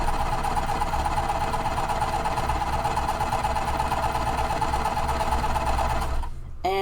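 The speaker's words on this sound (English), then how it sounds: "I'm just sewing with my regular stitch length all the way down the side." A sewing machine runs steadily, stitching a quilting cotton seam with a regular stitch length and a quarter-inch seam allowance, loud and continuous for about six seconds before stopping abruptly.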